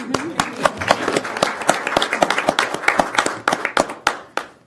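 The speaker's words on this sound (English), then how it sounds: "you deserve a round of applause" A small group at a committee work session claps in a brisk, uneven round of applause lasting several seconds, close and fairly loud with no talking.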